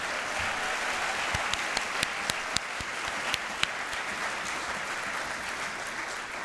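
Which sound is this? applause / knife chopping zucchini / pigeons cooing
applause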